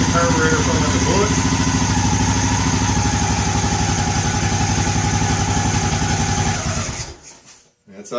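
Odes 400 ATV engine running steadily after a carburetor boot repair, a loud, close, rumbling idle that holds for about seven seconds before cutting off.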